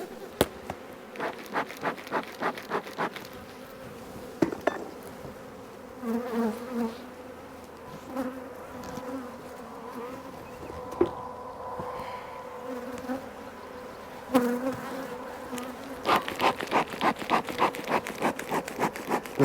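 Honey bees buzz around an open hive as workers fly back in, with individual bees whizzing close past in repeated bursts over a quieter, continuous hum.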